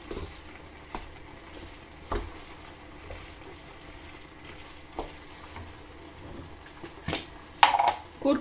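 Onion frying in lard in a pan, a steady low sizzle running throughout with a few louder clinks and stirring knocks, quiet and close with no one talking.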